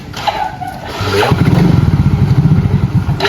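An ojek motorcycle taxi starts off, a few clunks and brief voices giving way to a close, loud engine that revs up and settles into a steady throbbing ride.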